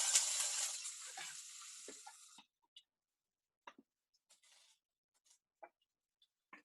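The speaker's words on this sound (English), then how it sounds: "over medium heat, we're gonna add onions" Onions frying in olive oil in a pan over medium heat give a soft, close sizzle for a couple of seconds. It then fades out, leaving a few faint, scattered ticks and pops in near silence.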